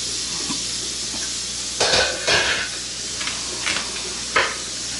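Chopped ground beef and onions cook in a pan with a continuous low sizzle, broken by a few louder scrapes and clanks of stirring near the pan, with no talking.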